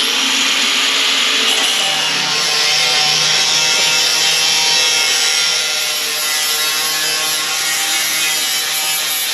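Metal being cut and sanded on a 1965 Impala quarter panel, a loud, continuous abrasive grinding rasp held close for several seconds with no talking.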